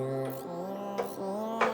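A voice sample shifted a couple of octaves up, heard as three short held synthetic vocal notes with bright breathy onsets, sounding alone.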